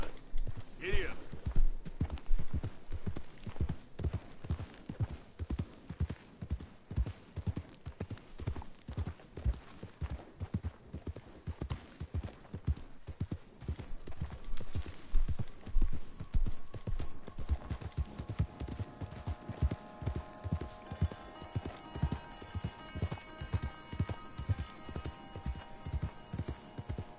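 A horse gallops in Red Dead Redemption 2, its hooves clip-clopping in a fast, steady rhythm that carries on throughout, with a neigh near the start and voices and in-game music and effects layered over the hoofbeats.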